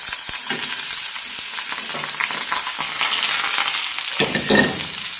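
Chopped taro stems, onion and green chilies hit hot oil with popping mustard seeds and curry leaves, giving a steady, close sizzle and crackle with occasional stirring scrapes and a louder burst near the end.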